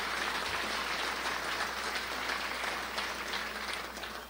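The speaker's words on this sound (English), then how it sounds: "Let's put our hands together for our platinum sponsors" A crowd at Crown Point's 2019 State of the City event applauds its platinum sponsors, a dense, even wash of many hands clapping that holds steady for several seconds before easing off toward the end, with no voices over it.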